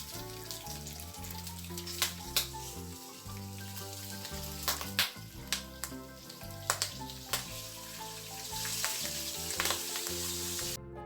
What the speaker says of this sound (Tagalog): pwede na natin i-remove yung ating pinakuluang pork liempo na pinirito natin